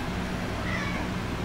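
A house cat gives a single short meow over a steady whooshing fan-like hum indoors.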